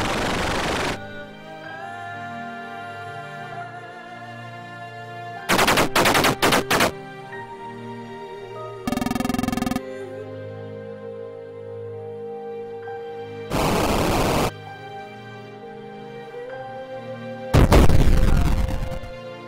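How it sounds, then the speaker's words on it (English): Mortar rounds fire in a tank combat video game as four loud, separate blasts spread over twenty seconds, each cutting sharply across a steady tonal game soundtrack. "Yeah, use the mortar."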